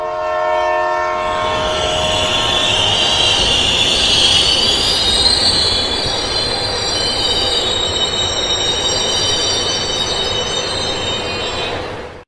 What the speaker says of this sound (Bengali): তারপর একদিন মাঝরাতে সেই ট্রেনটা এলো।